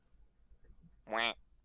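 A person's voice imitates a duck with a single short, nasal quack, near and fairly loud, after a quiet moment.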